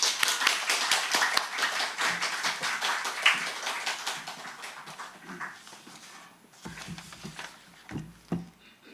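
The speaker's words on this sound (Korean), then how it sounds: "나오실 때 큰 박수로 환영해 주시기 바랍니다" Church congregation clapping to welcome a missionary speaker at a Sunday worship service, brisk dense applause that starts strong and gradually fades into scattered claps and shuffling.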